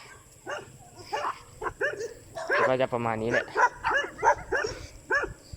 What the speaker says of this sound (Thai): คือหมาเห่าตลอดทางมาก